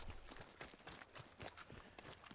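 Horse hooves clip-clop in a steady walking rhythm across a Red Dead Redemption 2 game world, moderately loud and close, with a dense busy background and no talking.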